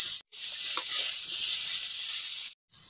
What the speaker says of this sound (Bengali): এই যে ফুলকপিকে আমি হালকা একটু খালি ভেজে নেব।